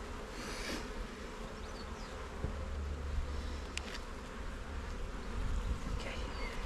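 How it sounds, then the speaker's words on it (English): Honey bees swarming around an open hive during a colony inspection make a dense, continuous buzz close by, with individual bees zipping past at moments, and no voices. "there are way too many bees on it."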